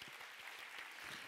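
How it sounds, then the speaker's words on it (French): Audience applause at a French round-table conference session on school partnership, a steady dense clapping throughout the short stretch, fairly quiet and distant in the hall. "Je vous propose de faire un tonnerre d'applaudissements à Lars Quatroup"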